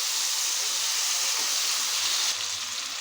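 Mashed mango hits hot oil seasoned with panch phoron and dried chilies, and a steady close sizzling hiss follows. It shifts briefly as the mango goes in and then continues alone.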